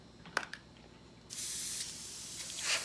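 An airbrush blasts out a steady hiss of sprayed water for over a second after a couple of faint clicks, close and fairly loud before tapering with a brief final puff.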